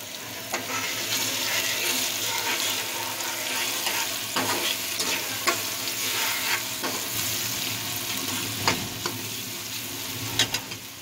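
Tomatoes frying with powdered spices, salt, chilli and turmeric being stirred in for a karela dish, giving a steady, close sizzle with scraping stirs and occasional sharp clicks of the spoon throughout.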